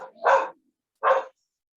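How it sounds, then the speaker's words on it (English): A pet dog barks indoors during a math lecture, two short, sharp barks about three-quarters of a second apart, fairly close and clear against near silence. "that's our dog telling us there's a leaf falling somewhere"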